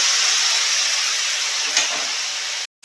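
Mustard paste hits a hot pan for a Bengali pabda fish curry, giving a steady, close sizzling hiss that runs evenly, with one brief sharper flare partway through before it cuts off.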